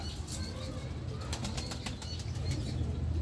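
A pigeon of a home-bred breed flaps its wings in a steady rustling flutter, with several sharper wingbeat bursts in the middle, continuous and fairly close with no talk.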